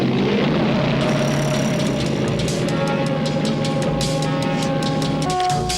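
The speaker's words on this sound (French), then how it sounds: "Je vais lancer les moteurs." Engines run up and hold a loud, steady mechanical drone with a rising tone and rapid rhythmic clicking layered over it, close and continuous for several seconds.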